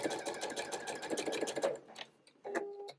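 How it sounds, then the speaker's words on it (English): A sewing machine stitches slippery lining fabric in a fast, even run of needle clatter for about two seconds, stops, then gives a short second burst, close and clear. "So that's where I am going to sew."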